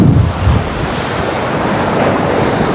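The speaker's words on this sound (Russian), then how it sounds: "Единственное, что сегодня достаточно сильный прибой." Strong surf on Anapa beach during a stormy, windy evening at sea, a continuous loud roar of breaking waves with heavy wind buffeting the microphone throughout and no voices.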